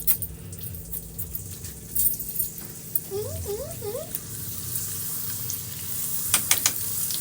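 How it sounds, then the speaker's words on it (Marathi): Papad deep-frying in hot oil gives a quiet, steady sizzle with soft crackling bursts, heard close up and without talking. "आता मी हे पापड तळून घेते"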